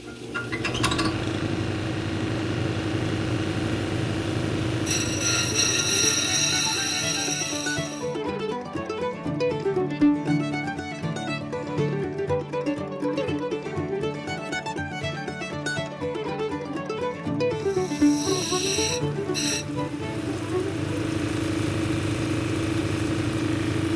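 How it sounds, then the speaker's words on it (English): A lapis lazuli cabochon being ground on an 80 grit wheel over a steady motor hum, with bursts of high scraping grind in the middle stretch and shorter bursts near the start and end. "So we'll start with the 80 grit, grind it down almost to the line"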